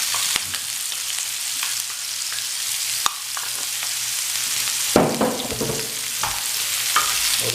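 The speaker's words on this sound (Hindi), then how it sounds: "अब हम इसमें एक कतरा मीडियम साइज प्याज, उसको मैंने चॉप किया हुआ, वो डाल देंगे।" Chopped medium onion hits hot oil in a pan for egg bhurji, a loud continuous sizzle with a few sharp stirring scrapes and knocks, close up and without talk.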